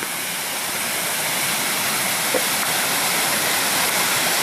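Steady, loud broadband rush of a stream's flowing water on a trip between Bukivets and Lada, continuous and even throughout with no voices.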